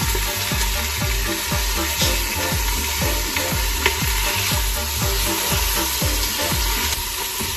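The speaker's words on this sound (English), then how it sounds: "I'm going to add my chicken now." Chicken added to a pan with sautéed garlic sizzles loudly and steadily, with a fast, regular run of scraping stirs repeating all the way through.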